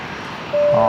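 A Fokker 100 airliner taxiing out to runway 01 Left at Brisbane Airport, a steady jet engine whine that swells and turns brighter partway through, heard under a person talking.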